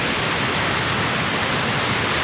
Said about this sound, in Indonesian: Ombak di depan tuh, ombak tuh laut.